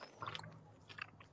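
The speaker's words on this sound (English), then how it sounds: "I'm eating almonds and pecans." Almonds and pecans are chewed close to the microphone in quiet, irregular crunchy bites and soft mashing, faint and alone with no talk.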